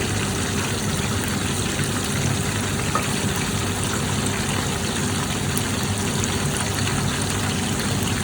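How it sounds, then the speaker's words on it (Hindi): Fish pieces fry in hot oil in a kadai for a crispy masala fish fry, giving a steady, dense sizzle and bubbling that holds at an even level throughout, with no voices. "इसको भी जो है हम डिप कर देते हैं कढ़ाई में, ऑयल में डिप कर देते हैं"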